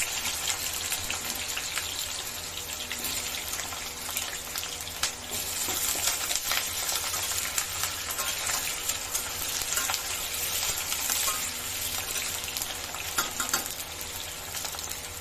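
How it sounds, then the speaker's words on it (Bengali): Cut potatoes sizzle and fry in hot oil, a dense, continuous crackling hiss that holds steady throughout at moderate loudness with no talking. "আলুগুলোকে আমি ভেজে নেব।"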